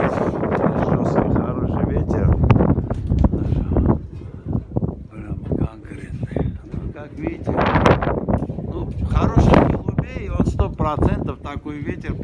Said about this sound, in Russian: Ветер, жесткий, хороший ветер.